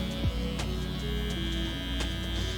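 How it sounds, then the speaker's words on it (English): A beard trimmer with no guard fitted runs with a steady, close electric buzz and hum that holds level from start to finish, with no voices over it. "So here I came in with the trimmer now with no guard on it."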